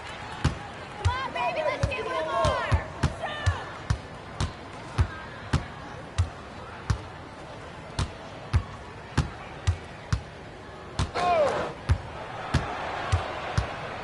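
Basketball play in NBA 2K, with a steady run of sharp ball bounces and thuds through a slam dunk, under game commentary and a light crowd.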